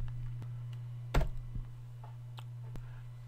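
A single computer keyboard key, F3, is pressed with a sharp click near the middle, followed by a few fainter taps, over a steady low electrical hum in a quiet home recording room.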